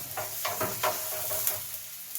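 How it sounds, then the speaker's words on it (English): Food fries in a pan with a steady sizzle while it is tossed around, several short scraping and clattering bursts of stirring breaking through the hiss at close range. "let that fry for a bit, and we're just gonna toss it around"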